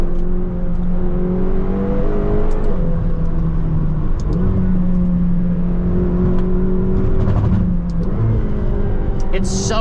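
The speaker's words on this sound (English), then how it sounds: "Let me listen to this exhaust for a second." A McLaren GTS engine drones steadily through its exhaust as the car accelerates in comfort mode, the pitch climbing and settling through smooth gear changes, loud and continuous for the whole stretch with faint voices underneath.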